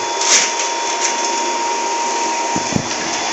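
Water pump running steadily as it draws well water into a filter, a continuous close mechanical hum and whir with a faint higher whine, holding even for the whole stretch with a couple of brief clicks near the end.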